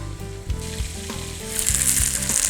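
Hamour fish fries in a pan with a loud, close sizzle, while pan clatter and knocks from stirring pulse underneath and the sizzle grows brighter and steadier toward the end.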